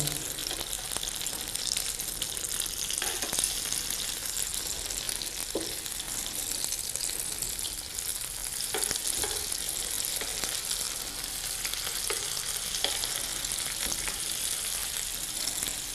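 Chicken kebabs fry in a pan over a low flame, giving a steady, moderate sizzle with occasional soft clicks and scrapes, heard close and without talk.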